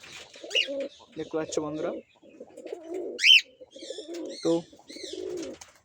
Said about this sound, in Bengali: আজ দেখলাম সকালবেলা ছাদেতে কিছু পায়রা বসে আছে